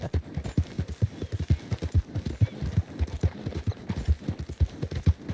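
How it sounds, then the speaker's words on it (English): Horse hooves in Red Dead Redemption 2 pound steadily in a fast galloping rhythm on dirt, close and continuous with no pause, while the horse skids through a turn. "Whoa, drifting a horse right there."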